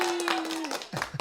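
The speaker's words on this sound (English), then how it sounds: "let's get a round of applause together for J." Crowd applause for a speaker being introduced at a talk on manifesting dreams, a broad wash of clapping with a steady tone running beneath and a voice breaking in near the end.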